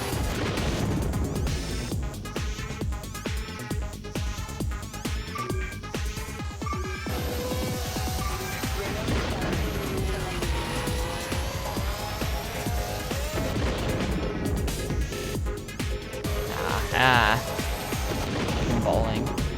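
Repeated heavy booms crack through the constant engine roar and whooshing effects of the GameCube racing game XGRA: Extreme-G Racing Association, loud and steady throughout, with voices talking over it.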